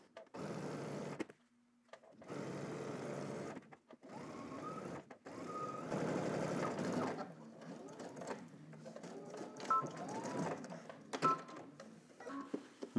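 A domestic sewing machine runs in several bursts of rapid stitching on a shorts pocket bag with a 5/8-inch seam allowance, with short pauses between runs and lighter clicks and handling noises after.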